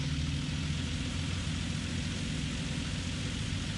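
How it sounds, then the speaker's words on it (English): Steady rain falling on a roof on a rainy October day makes a dense, unbroken hiss and patter that holds at an even level throughout, with no voices. "It's freaking raining, and it's been raining all day."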